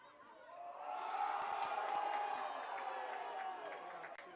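Crowd at a CIF girls high school soccer championship game cheering a player's move, a swelling roar with shouts and whoops from distant stands that rises then fades over a few seconds.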